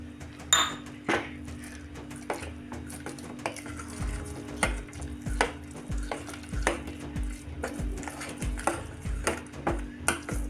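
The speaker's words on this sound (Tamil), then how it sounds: "அதுக்கு நான் இன்னும் கொஞ்சம் காய்ச்சின பால் ஊற்றி மிக்ஸ் பண்ணிக்கிறேன்" Soaked rava being stirred with boiled milk into a dosa-style batter for a sweet, a spoon scraping and clinking against the bowl in a steady rhythm of close, repeated knocks with no talking.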